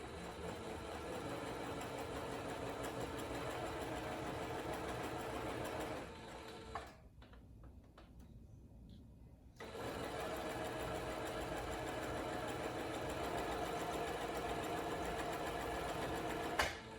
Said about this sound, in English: we're going to sew the back, the top and the bottom together